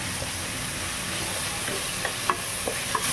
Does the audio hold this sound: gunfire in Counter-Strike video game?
no